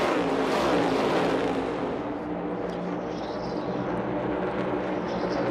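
NASCAR race cars roar around the Las Vegas oval during a final stage lap, a loud engine swell that fades to a steadier distant drone with crowd and track noise beneath.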